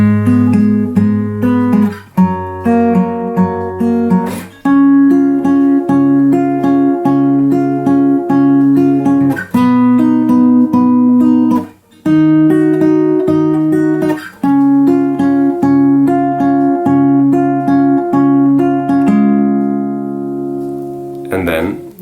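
Acoustic guitar plays the outro of a song, a picked pattern moving through several chord changes with brief gaps between phrases, close and full, ending on a ringing final chord.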